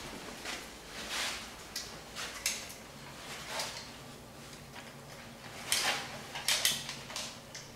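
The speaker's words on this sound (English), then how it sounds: "And then I will just load up the 6 darts." Foam darts are pushed one by one into the rotating barrel of a Nerf XD Strongarm blaster, giving soft plastic clicks and scrapes in irregular bursts, close up and fairly quiet.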